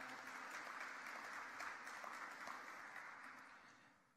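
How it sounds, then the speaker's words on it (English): A crowd at a college athletics awards show claps in sustained applause for student-athletes, a dense steady patter that fades out toward the end. "give yourselves a nice round of applause for that"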